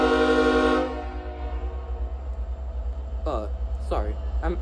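A train passes a trailer park near the tracks, its horn blaring briefly before a low rolling rumble carries on, with a person talking nearby over the fading rail noise.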